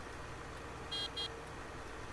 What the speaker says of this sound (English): I think it has a truck horn on it.